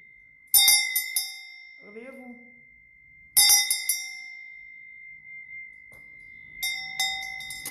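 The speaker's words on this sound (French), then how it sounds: "Mais la cloche, elle est puissante." A powerful bell struck three times, several seconds apart, each strike ringing out loud and bright before decaying. A steady high tone hums throughout, and a voice speaks briefly after the first strike.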